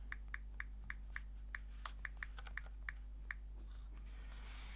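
Taps on the touchscreen of a Samsung Galaxy Tab A9 tablet as a password is entered, about a dozen light, evenly spaced keyboard clicks over a low steady hum in a quiet room.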